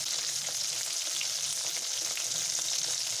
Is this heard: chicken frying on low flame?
yes